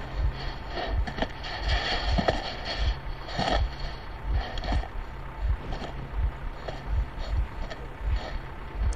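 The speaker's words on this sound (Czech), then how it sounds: "Já slyším motor." An engine in the Metro Last Light video game chugs in low, regular pulses under a hissing, windy background. The thuds are steady and fairly close, and no one speaks.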